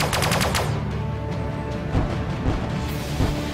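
Ship weapons firing in the space combat game Sunrider, a dense rapid barrage of loud mechanical bursts that rolls on continuously, close and heavy with rumbling low end.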